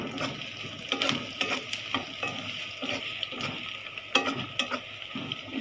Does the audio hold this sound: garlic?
yes